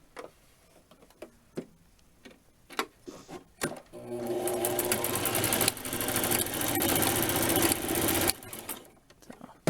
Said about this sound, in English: we're just going to straight stitch back and forth a few times over those